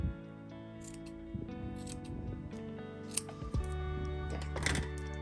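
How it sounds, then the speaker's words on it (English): Scissors trimming the long strands off a yarn pom-pom, giving a close, quiet series of crisp metallic snips in an irregular rhythm. "First step is quickly trimming all of the super extra long bits."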